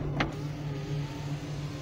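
A power sunroof on a 2007 Porsche 911 Carrera 4S AWD opens with a steady, close electric motor whir, and a brief click sounds near the start.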